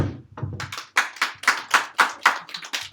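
Clapping for a student receiving a gift at a church youth service, a small group's rhythmic claps, about a dozen sharp, evenly spaced beats close by, following a couple of softer starting knocks.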